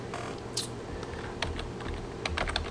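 Soft clicks of fingers typing on a computer keyboard come in quick, uneven bursts, quiet and close over faint background hum.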